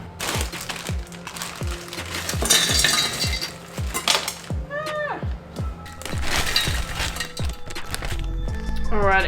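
Frozen mixed vegetables, an international mix, clatter and rattle into a cooking pot in a string of hard, scattered knocks while a person talks throughout.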